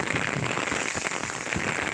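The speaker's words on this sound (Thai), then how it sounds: "พอดีฝนมาหนักมาก" Heavy rain pours down in a steady, dense hiss of drops striking surfaces, fairly soft and continuous, with scattered louder patters and no voices.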